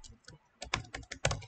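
Rapid clicks of typing on a computer keyboard, with irregular bursts of close, crisp keystrokes, quiet overall and no speech.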